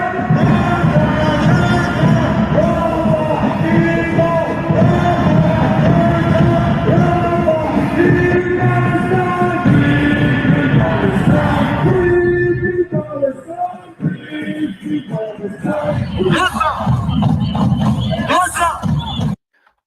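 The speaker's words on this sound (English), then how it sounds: "This is an incredible crowd that we have here" A large outdoor crowd roars with sustained cheering, yelling and chanting, loud and dense throughout, thinning briefly near the end before swelling again.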